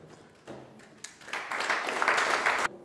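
Audience applause at a French stage show introduction, starting as scattered claps then swelling into dense, sustained clapping for a couple of seconds before cutting off.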